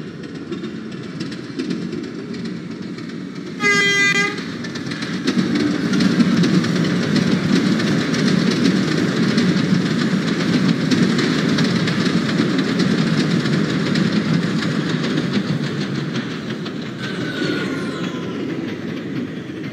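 An R179 subway train in the OpenBVE simulator rolls steadily along a Manhattan-bound J line, its continuous rumble and rail clatter filling the track, with a brief tonal chime early on and a faint squeal near the end.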